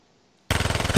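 A rapid burst of automatic gunfire in a competitive first-person shooter video game breaks in sharply after a moment of silence, with quick evenly spaced shots that are loud and close.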